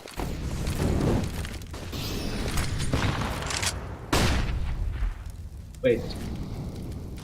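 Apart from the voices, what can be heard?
grenade explosion in a competitive shooter video game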